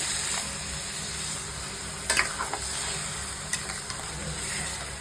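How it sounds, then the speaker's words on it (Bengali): Marinated chicken for chicken rezala sautés in a pan with a soft, low sizzle, broken around the middle by a few sharp scraping stir clicks, then settling back to a quiet hiss. "এবার চিকেনটাকে ভালো করে একটু কষাতে হবে চিকেন রেজালা বানানোর জন্য।"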